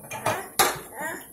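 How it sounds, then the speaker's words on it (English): Dishes and cutlery clink and clatter in a kitchen sink during washing, a few sharp ceramic and metal knocks with softer rattles between them. "Are you helping me wash the dishes?"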